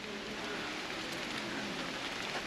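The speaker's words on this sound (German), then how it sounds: "Es regnet." Steady rain falls outdoors near a prison entrance in Sinop, a dense, even hiss of drops on surfaces, continuous and moderately loud with no talk.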